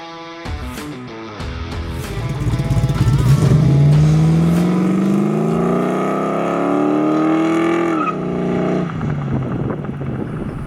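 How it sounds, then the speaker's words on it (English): A 1968 Chevrolet Camaro pro-touring car's V8 engine roars and revs up steadily while driving, its pitch climbing under acceleration before easing off, loud and close throughout. "So today we're driving the Reloaded Camaro."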